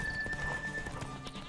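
Horse hooves pound steadily during a horse race in The Witcher 3, a galloping clip-clop rhythm over game ambience with a faint whinny.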